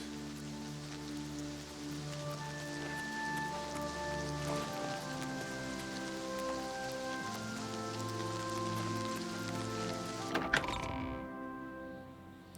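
Steady rain pours across the open world of Oblivion Remastered, a dense continuous hiss that fills the whole scene, with a low tonal game ambience underneath and a brief thud near the end.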